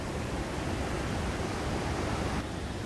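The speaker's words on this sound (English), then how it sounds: "with the waterfall in my back" A waterfall in Las Conchas nature park, Guatemala, a steady dense roar of rushing water heard from nearby, constant throughout with no talk.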